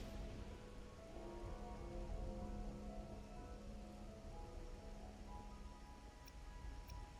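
Steady rain patters on a surface with a continuous soft hiss, a low rumble underneath, and no voices, in the video game Wuthering Waves.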